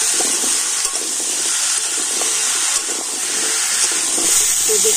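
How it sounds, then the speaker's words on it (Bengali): Potato and pumpkin pieces fry in a pan with salt and turmeric, making a loud, steady oily hiss with light crackles and occasional stirring, heard up close with no voices. "লবণ আর হলুদ গুঁড়ো দিয়ে আলু আর কুমড়োটা কিন্তু আমি ভেজে নিচ্ছি"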